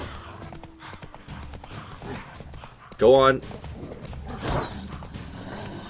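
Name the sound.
horse galloping in The Witcher 3 video game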